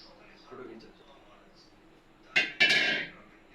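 A knife cuts through a small gulab jamun sweet made with wheat flour, giving two short, close scraping cuts near the end, with quiet room sound before.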